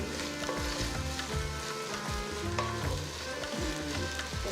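Ginger garlic paste hitting hot oil in a pan, a loud, dense, continuous sizzle close up with stirring scrapes mixed in, and no talking.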